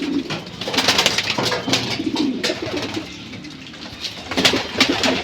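Racing pigeons coo steadily inside a loft, overlapping low throaty calls rising and falling in a continuous murmur, close and fairly loud with no talk.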